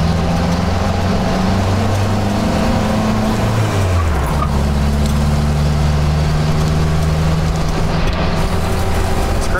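Engine of a 1959 Willys Jeep CJ on a test drive, a steady loud drone with low harmonics that drop in pitch near the middle as it shifts, then settle into an even cruise.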